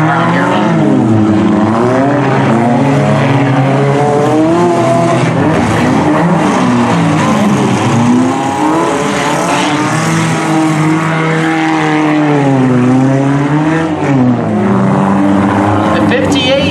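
Race cars, a sharp-looking Subaru among them, roar around a figure-8 track during a heat, engines droning loud and continuous for the whole stretch with a commentator talking over the top.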